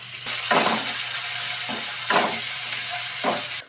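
Onions frying with salt in a pan, a steady loud sizzle throughout with several bursts of stirring scrapes spaced about a second apart, cutting off abruptly at the end.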